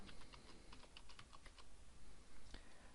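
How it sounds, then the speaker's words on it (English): Rapid keystrokes on a computer keyboard while a database name is entered during a WordPress setup, a clicking burst of taps in the first half followed by sparse single presses, close and clear with no talking. "You type in the database name."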